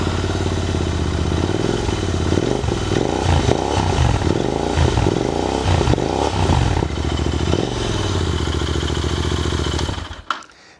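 A Royal Enfield Interceptor 650 motorcycle engine with an aftermarket exhaust runs close by with a deep, throaty exhaust burble, revving in several rhythmic pulses before cutting off abruptly at the end.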